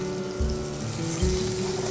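Shrimp, mahi-mahi and tilefish hitting a hot pan for seafood risotto: a short, dense hiss of sizzling, close and fairly loud, with a steady tone and faint bumps underneath.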